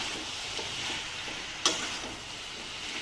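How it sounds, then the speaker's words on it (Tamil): A pan of avial, a mixed vegetable curry, is stirred with a soft, steady frying hiss and light scraping, and one sharp clink rings out partway through. "நல்லா கிண்டி விட்டுவிடுவோம்"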